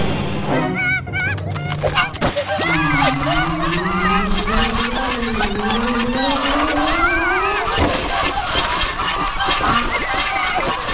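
A fierce goose in an animated cartoon honks loudly and repeatedly amid busy cartoon sound effects and a music bed, with a long rising squawking call in the middle.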